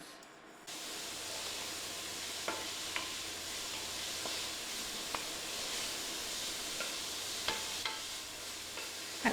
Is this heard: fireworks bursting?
no